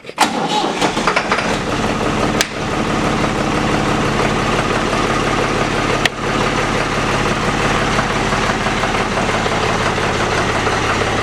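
A New Holland 445 tractor's diesel engine cranks and catches on a cold start, then settles into a loud, steady idle with a rapid low chugging rhythm, close by.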